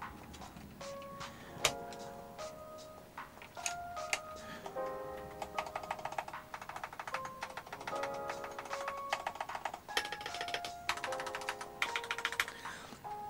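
Typing on an XVX M87 Pro mechanical keyboard, a three-mode TKL with a steel plate: a steady run of crisp, close key clacks in quick irregular bursts, with no speech over it.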